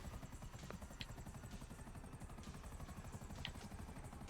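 A helicopter's rotor chops in a rapid, steady rhythm in the video game GTA 5, quiet and continuous, with faint game-like beeps and clicks over it.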